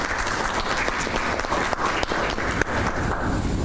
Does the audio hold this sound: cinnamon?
no